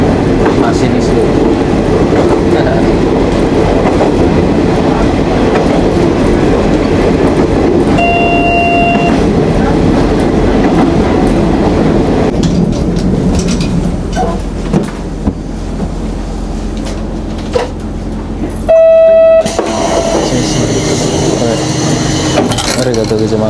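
A train runs on rails in Japan, seen from the driver's cab, with a loud steady rumble and rhythmic clickety-clack throughout. Brief electronic chimes ring out before the train slows and quiets near the end.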